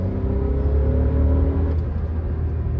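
A Volkswagen Virtus 1.0 engine hums and drones steadily from inside the cabin while driving, with a low rumble and a slight change in pitch partway through, no talking.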